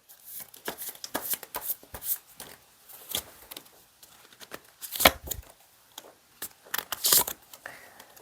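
Tarot cards shuffled and drawn by hand, heard up close as a run of crisp riffling bursts and papery flicks with short pauses between them, loud and free of talk.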